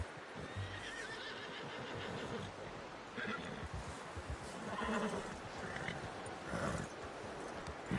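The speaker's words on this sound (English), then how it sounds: "You should really tether that horse, Arthur." Horse neighing and clip-clopping hooves in the video game Red Dead Redemption 2, a few whinnies and hoofbeats over a busy outdoor camp background, fairly close and moderately loud.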